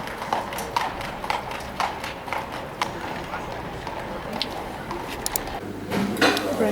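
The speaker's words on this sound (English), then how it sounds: "Just some horses casually traveling through the night." Horses' hooves clip-clop over a cobblestone street at night in Prague, a brisk uneven clatter of several steps passing fairly close, with people talking in the background.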